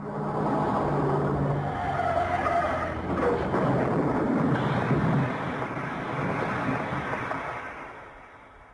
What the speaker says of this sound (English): There had been a car crash.